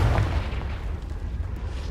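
Confringo blast spell in Hogwarts Legacy going off as a deep, rumbling boom that fills the whole two seconds, loud and low with no talk over it.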